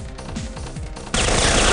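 Gunfire from enemies in the game Syphon Filter, rapid bursts of automatic shots at first, then a sustained loud barrage of continuous firing in the second half.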